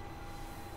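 A train trap in the game Kagero: Dark Side Princess produces a brief, dense rumbling roar of rolling rail cars, loud and steady with a faint high squeal, lasting under a second.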